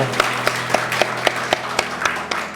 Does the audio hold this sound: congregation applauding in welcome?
yes